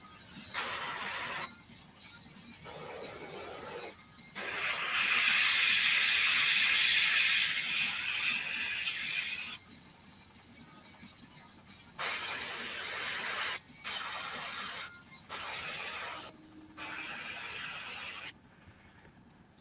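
Paint hisses from an airbrush in repeated bursts, some a second or two long and one running about five seconds, broken by quiet gaps. The spraying is close and steady, with no speech.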